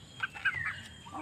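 A chicken gives a few quick, soft clucks close by, in short bursts.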